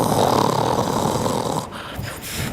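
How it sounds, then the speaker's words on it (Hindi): A cartoon crow snores in one long, loud, rasping breath, close and alone. "जल्द ही कालू कौवा खर्राटे लेने लगता है"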